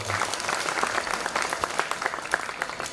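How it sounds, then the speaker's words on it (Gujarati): An audience at a Khodiyar Mataji festival claps for the singer Niragbhai, a dense, lively round of applause from a crowd that holds steady and close for the whole stretch. "એક વખત ફરીથી જોરદાર તાળીઓથી વધાવો"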